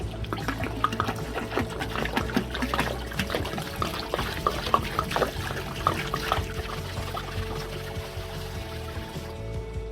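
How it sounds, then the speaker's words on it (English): Water poured from a jug splashes and trickles steadily onto stones in a fish tank for the full length, a continuous close pouring sound with small splashy bursts. "When I'm pouring in the water jugs, it's a little splashy"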